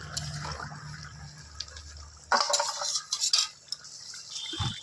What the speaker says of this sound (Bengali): গরম মশলা দিয়ে একটু নাড়াচাড়া দিয়ে দিলাম